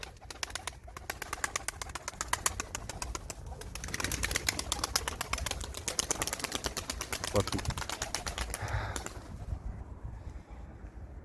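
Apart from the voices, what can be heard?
performance pigeons cooing and flying back to roost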